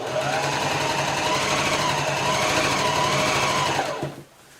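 A sewing machine running steadily while stay stitching, a continuous fast whirring hum with rhythmic needle clatter that holds for about four seconds before stopping abruptly.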